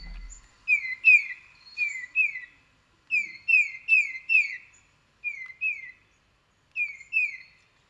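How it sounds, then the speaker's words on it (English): A recorded bird call made of whistled two-note phrases, a sliding downward whistle repeated in clusters of two or three with short gaps between them, clear and fairly loud against silence. "it's a simple call. It's Peter, Peter, Peter."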